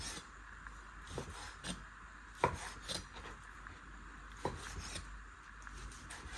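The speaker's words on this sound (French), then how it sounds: "Hop, et après, vous taillez vos cubes" A knife chops a pollack fillet into cubes on a cutting board, giving a series of soft, irregular knocks and squishy cuts at close range with no talk.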